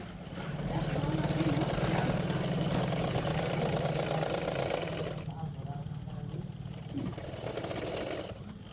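A sewing machine runs steadily, stitching along the edges of blouse lining fabric, its motor hum continuous for several seconds before easing off, with a brief pause and a short restart near the end.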